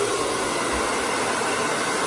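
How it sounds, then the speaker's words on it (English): A handheld hair dryer blows steadily while drying damp hair with a round brush, making an even, close, continuous whoosh with no pauses and no talking. "I'm blow drying a little bit of the moisture out"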